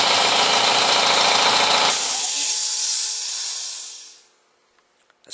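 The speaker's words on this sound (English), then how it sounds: "it's pretty quiet for a compressor" An air compressor in a shop runs with a loud, steady broadband hiss and motor drone that drops in level, then winds down and fades to near silence, leaving a few faint clicks.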